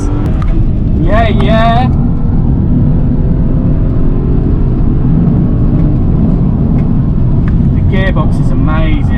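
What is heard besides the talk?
stage 1 BMW 335i accelerating through gears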